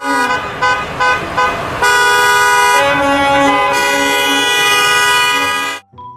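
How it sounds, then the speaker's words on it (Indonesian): A toy school bus sounds a loud electronic horn melody: a few short honks, then a sustained tonal toot that holds for several seconds before stopping abruptly. "Mobil bus sekolah."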